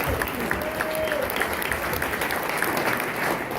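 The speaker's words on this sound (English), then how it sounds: "That's a round of applause." Steady applause from an audience greeting a graduate, a mechanical engineer from Leo High School, at a 90th anniversary event, sustained and even throughout with a faint voice briefly audible beneath the clapping.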